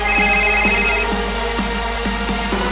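An incoming phone call's ringtone plays a repeating melodic pattern at a steady pace, loud and close, with no one talking over it.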